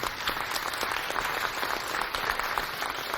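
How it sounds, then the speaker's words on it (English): A concert audience claps in a dense, steady burst of applause that stays fairly even for a few seconds, with no speech on top. "I think that deserves another round of applause, ladies and gentlemen."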